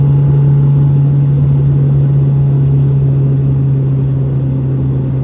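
Toyota MR2 Spyder on the road, its engine a loud, steady, even hum that holds one drone throughout with no revving, and no voices.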